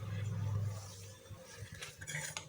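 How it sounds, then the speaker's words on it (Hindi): A spoon stirs boiled chickpeas and tomatoes in a bowl for chana chaat, giving soft scraping and a few light clinks against the bowl, close and brief. "इसको मिक्स कर लेंगे।"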